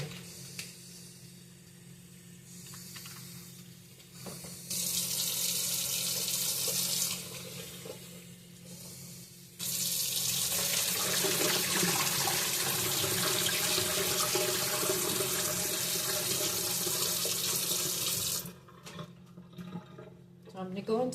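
A kitchen sink tap rinses cauliflower in two bursts of running water, a short one and then a longer steady one, each splashing loudly against a quieter room background with a voice at times.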